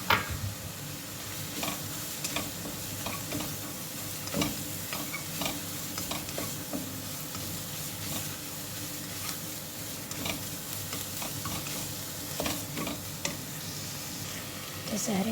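Meat sizzles and fries in a pan while being stirred and sautéed, a continuous crackling hiss broken by frequent scraping and clinking strokes throughout.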